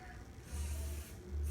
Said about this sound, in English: I just took basic spray, and if you give me a second, I'm going to spray it real quick